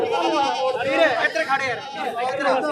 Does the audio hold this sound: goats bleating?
yes